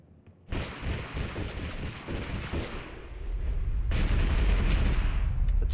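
Rapid gunfire in the video game Totally Accurate Battlegrounds: a dense, loud burst of repeated shots that starts abruptly and builds into a heavier rumbling barrage.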